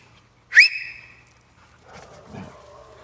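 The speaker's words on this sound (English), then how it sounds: "Got that dog going." One sharp, loud whistle is followed by a quieter, fainter dog response, a short whimpering bark-like sound that trails off about two seconds later.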